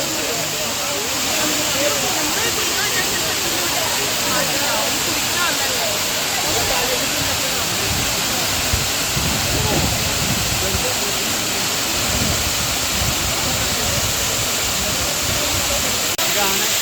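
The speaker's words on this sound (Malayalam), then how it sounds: "ഈ വെള്ളം ഇങ്ങനെ താഴേക്ക് ഇങ്ങനെ വന്ന് പതിക്കുന്നത് കേട്ടോ വെള്ളച്ചാട്ടം" At Vattavada, water plunges down a waterfall in a cold camping spot, a loud unbroken roar of rushing, splashing water that holds steady throughout.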